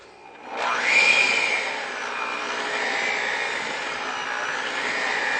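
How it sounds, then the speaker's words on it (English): An electric mixer beating chocolate cake frosting, heard as a steady close whirring hum that rises in pitch and loudness as it speeds up, then settles into a constant drone. "We'll just increase our mixer a little bit."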